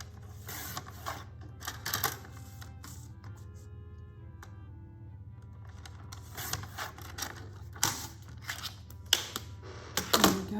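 Paper trimmer slicing card to size for a handmade Mother's Day card, with several sharp close clacks and sliding strokes spaced out over quiet room tone.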